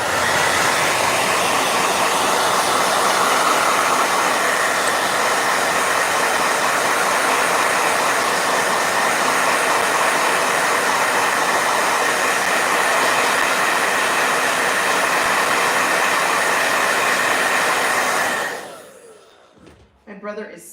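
A hair dryer blows loud and steady at close range for about eighteen seconds, then switches off, leaving a brief quiet with a few light knocks at the end.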